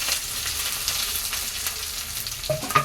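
Onions and curry leaves drop into hot oil with mustard seeds and chana dal in a South Indian mutton-liver dish, giving a steady close sizzling hiss with a louder burst of frying and stirring near the end.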